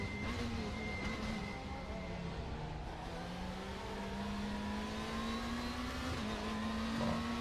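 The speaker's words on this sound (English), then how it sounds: "the engine note of the 2-liter twin valve, or twin spark" Alfa Romeo 2-liter twin spark touring car engine in RaceRoom: a steady, droning engine note that slowly climbs in pitch as it revs, with a whining harmonic layer, continuous and moderately loud, no talk.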